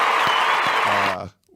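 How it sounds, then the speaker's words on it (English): A canned applause sound effect played during a podcast, a short burst of dense crowd clapping and cheering with a voice over it, cutting off abruptly at the end. "I got to give you the applause."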